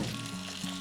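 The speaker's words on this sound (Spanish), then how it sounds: "Mientras se fríe nuestro pescado por un lado" Red fish frying skin-side down in butter in a hot pan, a steady close sizzle that fills the whole moment without talk.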